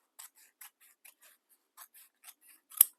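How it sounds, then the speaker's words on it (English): Scissors snip excess fabric off a sewn compact clutch wallet, a quiet series of crisp, short cuts in uneven rhythm, ending in a louder final snip, heard alone and close. "take your scissors, and just cut that"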